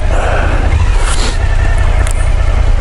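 Suzuki V-Strom 1000 ABS motorcycle, a 2014 model, ridden on the road, its engine a steady low drone blended with heavy wind rush, loud and continuous throughout.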